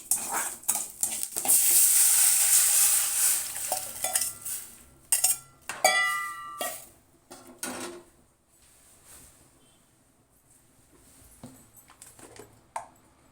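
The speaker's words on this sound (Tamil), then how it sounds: "இப்போ நம்ம கரைச்சி வச்சுக்கிற புளி கரைசலை இதில் சேர்த்துடலாம்" Tamarind water poured into pepper rasam in a pot, a bright splashing pour at the start followed by spoon clinks and stirring, with scattered metal knocks of utensils fading toward the end.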